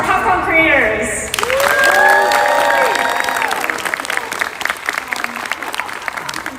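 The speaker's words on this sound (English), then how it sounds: "Let's hear some applause for our Capcom creators." At the Monster Hunter 20th anniversary panel at TwitchCon 2024, a convention audience breaks into loud, sustained applause and cheering that fades gradually, with a voice speaking over the crowd.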